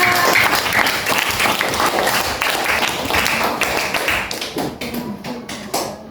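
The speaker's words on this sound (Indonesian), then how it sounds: "Tepuk tangan untuk Akira." Children clap for a classmate in a classroom during a lesson on capital letters, a close, loud burst of uneven hand claps that breaks into scattered individual claps and taps before dying out.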